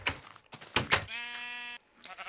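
A Minecraft sheep gives a single drawn-out, tonal bleat that follows a few quick clattering in-game knocks, clear and close with no talk.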